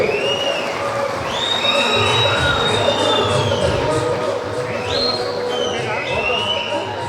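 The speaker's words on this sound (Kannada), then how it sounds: "ಗೌರವವನ್ನು ಸಲ್ಲಿಸ್ತಾ ಇದ್ದಾರೆ ಜೋರಾಗಿ ಚಪ್ಪಾಳೆ ಕೊಟ್ಟು" A crowd at a birthday event attended by the Chief Minister claps and cheers loudly and continuously, with whistles rising over the applause and voices mixed in.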